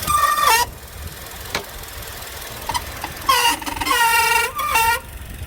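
Slipping engine drive belts on a running car squeal in shrill, piercing bursts: one at the start, then two longer ones near the end, over a low, steady engine idle.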